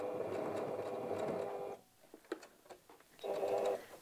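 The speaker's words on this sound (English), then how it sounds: "Just going to do a quick back stitch" A sewing machine runs a quick back stitch while a ruffle shirt is made: a steady close whirring burst, a short pause with faint clicks and handling, then another brief run.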